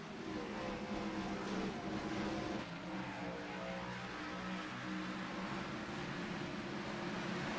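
Xfinity stock cars racing at Bristol during a crash, heard as a continuous loud roar of engines from a distance, with no talk in the clip.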